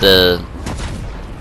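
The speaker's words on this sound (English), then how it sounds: "I just use the energy cannon to knock the other players around" An energy cannon fires in Fortnite: a short bright tonal whine, then a loud broadband blast that fades into a lingering rumble.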